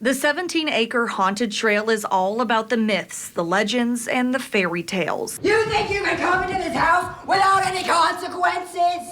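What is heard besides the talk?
No everyday noise stands out behind the speech.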